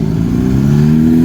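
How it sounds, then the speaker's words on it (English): Sports motorcycles at the Perth Motorplex drag strip give a loud, close engine drone that climbs steadily in pitch as they rev over a bit more than a second, with no talk. "Couple more sports bike riders coming through."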